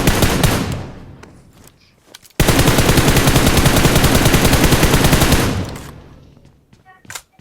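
Sustained automatic gunfire in a battle royale video game, a dense rapid burst lasting about three seconds after a few scattered earlier shots, loud and close, then tapering off.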